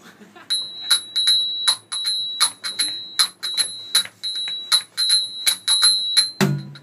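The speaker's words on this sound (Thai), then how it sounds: "จับกระดิ่งครับ" Small hand bells ringing in a steady rhythm, bright repeated strikes close by, about a dozen rings with short pauses, ending in a soft thump.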